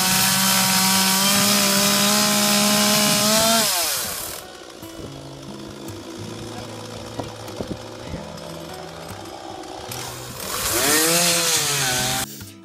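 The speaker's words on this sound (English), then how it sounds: "He showed us how to use a chainsaw" A loud chainsaw engine roars while cutting wood, drops to a sputtering idle for several seconds, then revs up again to full power near the end.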